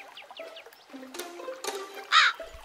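Crows cawing in short harsh calls, several spaced through a brief stretch, moderately close and alone over a quiet background.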